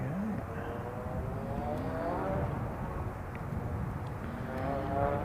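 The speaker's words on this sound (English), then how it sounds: "It's a Jetstar. 171, and it's coming from Melbourne." A Jetstar airliner arriving from Melbourne sounds fairly faint and distant, a steady engine hum with wavering tonal whine layered over low rumble.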